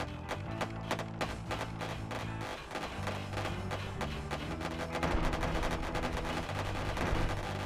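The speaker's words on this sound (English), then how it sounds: "I'm firing on the wrong side of it just now." Ship weapons fire in Wayward Terran Frontier: Zero Falls, a rapid run of sharp, evenly spaced shots over a steady tonal music bed, the volume swelling toward the end.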